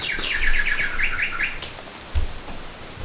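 A bird clock marking the hour plays a recorded bird call, a quick series of high chirping trills lasting about a second and a half, then a soft thump and quiet room noise.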